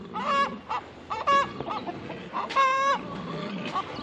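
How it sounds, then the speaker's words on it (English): An upset chicken clucks and squawks nearby in harsh, honking bursts that come in an uneven run, loud and close, with little else around it. "And a very upset chicken over here."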